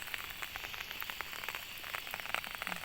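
Rain falling on a young rice paddy in the Thai countryside, a steady soft hiss of drops with faint patters, fairly quiet and continuous, with no talking.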